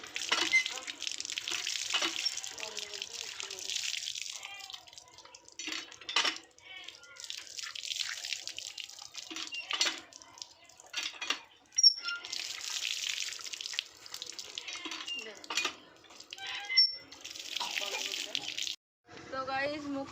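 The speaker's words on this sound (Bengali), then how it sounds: "রাত ব্রাশ করা হয়ে গেলে আবার মুখটা ধুয়ে নিই" Tap water runs in steady splashing bursts as someone washes their face after brushing teeth at night, with pauses between rinses and a little speech toward the end.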